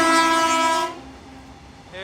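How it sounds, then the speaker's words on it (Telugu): A goods train passes a MEMU passenger train held at a crossing on the Gudur to Vijayawada line. Its loud, steady horn blast cuts off sharply, leaving a low rumble of rolling wagons. "మన ట్రైన్ ఆపేసి గూడ్స్ ట్రైన్ అయితే పంపిస్తున్నాడు."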